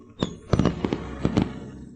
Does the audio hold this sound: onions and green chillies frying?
no